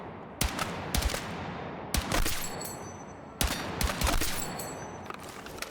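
Light machine gun firing in a shooter game, three separate loud bursts of rapid shots, each cutting in sharply and then fading off in a ringing tail before the next one starts.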